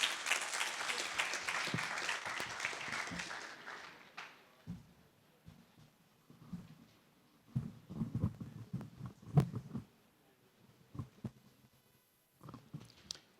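An audience at a high-level opening session applauds for about four seconds, a dense burst of clapping that fades out, followed by quiet shuffling and faint handling noises.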